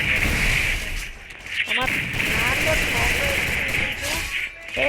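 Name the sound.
gunfire in a shooting video game, headshot kill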